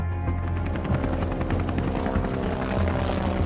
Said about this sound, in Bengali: আকাশে গর্জে ওঠে ইঞ্জিনের শব্দ